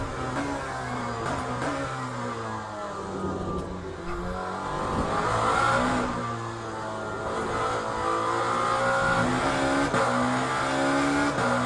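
Race car engine in the sim racing game Le Mans Ultimate, a raging, revving roar that rises and falls through gear changes with occasional tire squeal, steady and moderately distant with no talk.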